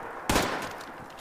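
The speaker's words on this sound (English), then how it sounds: "Who's shooting at it? You're shooting at my property," A single sharp gunshot bursts out close and loud in the online game Fallout 76, then trails off into a fading echo.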